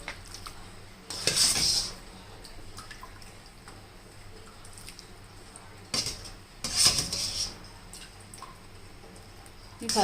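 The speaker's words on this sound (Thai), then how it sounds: "เรามาตักนะคะนี่ค่ะ สาคูที่เราแช่น้ำเย็นไว้นะคะ" A metal spoon scoops sago pearls soaked in cold water from a bowl, giving two bursts of clinking and scraping against the dish amid quiet kitchen background.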